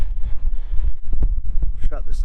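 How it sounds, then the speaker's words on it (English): Gusty wind buffets the microphone outdoors beside a 2020 Bobcat T590 skid steer loader, with low rumbling bursts, while a person speaks over it. "it's getting really windy out here"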